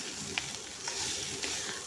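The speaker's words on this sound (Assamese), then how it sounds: "ভাত ভাজিকৈ আজি কৰিলোঁ" Cooked rice stir-fried in a pan gives a soft, steady sizzle with a few brief scraping stirs, heard close up with no talking.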